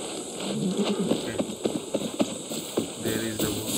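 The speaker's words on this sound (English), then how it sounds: "That's a good horse." Steady clip-clop of horse hooves trotting along at a brisk, even rhythm in Far Cry 6, fairly close, against a faint background hum.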